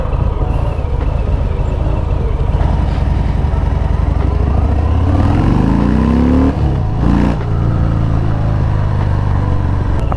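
A Harley-Davidson Fat Bob on a test ride, its big engine rumbling loudly and steadily up close, with a rising rev in the middle amid wind buffeting.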